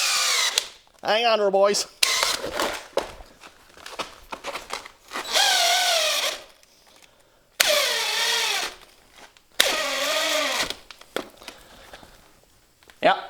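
A DeWalt cordless drill drives a lag bolt into wood in several loud bursts, its motor pitch sagging and straining under load between pauses, with someone speaking briefly in the gaps.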